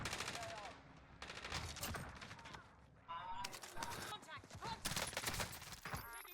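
Rapid bursts of Mac 10 submachine gun fire from the Warzone video game, fast automatic rattles broken into several volleys with short gaps between them.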